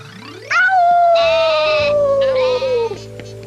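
A single long, wavering sheep bleat rings out loud and close, fading at the end against a low background hum.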